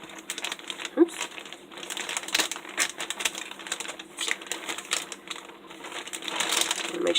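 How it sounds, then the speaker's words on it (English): Scissors snip and crinkle through a plastic bag holding yarn, close up, with irregular clicks and rustling crackles of the plastic over several seconds. "I need the scissors to cut that open here"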